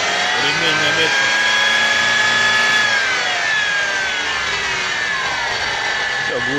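A second-generation Mitsubishi Outlander's engine revs after a drive belt replacement, a loud high-pitched belt whine rising and falling in pitch over a low engine hum, with a voice briefly heard.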